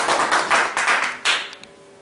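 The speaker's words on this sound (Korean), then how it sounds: "많은 박수" A small audience claps at an art history talk, several bursts of hand claps close by, uneven and sparse, fading out after about a second and a half.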